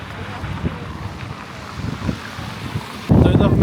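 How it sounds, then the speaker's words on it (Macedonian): Strong wind blows at a well-known cathedral in Iceland, roaring and buffeting the microphone throughout, with a sudden louder gust hitting near the end. "толку многу дува, што не можам ни слика да направам"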